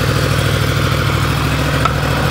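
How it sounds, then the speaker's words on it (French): A 2023 Yamaha R1 sport motorcycle engine idles just after starting, a steady, loud, close rumble with an even pulsing beat and no talk over it. "La moto démarre, ça démarre facile"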